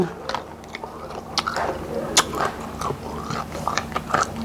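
Young hog plums (makok) being bitten and chewed up close, with wet crunchy bites and squishy mastication repeating steadily, no talk over it.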